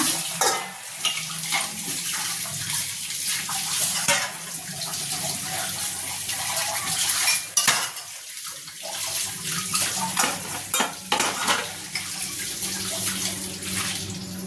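Water runs steadily from a tap, splashing continuously, with occasional clinks and knocks of dishes being washed under the stream.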